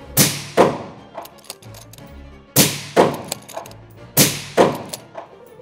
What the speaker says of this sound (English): Let's fire it through this Ruger RPR using the Garmin Zero chronograph